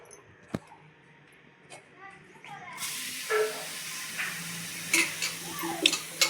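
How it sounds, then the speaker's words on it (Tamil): Grated coconut hits hot ghee in a pan for coconut burfi and starts a steady sizzle partway through. Close scrapes and stirring knocks keep breaking through the hiss, after a few quieter taps at the start. "அந்த நெய் சேர்த்ததில் இந்த தேங்காய் துருவில் நம்ம போட்டு கிண்டிக்கலாம்"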